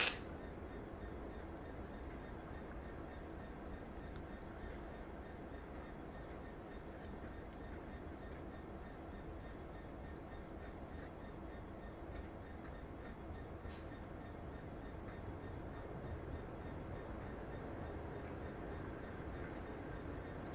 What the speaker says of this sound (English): Still hear the train outside.